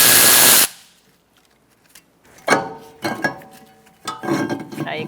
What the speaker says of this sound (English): Using a T30 Torx bit, we're going to take out this screw.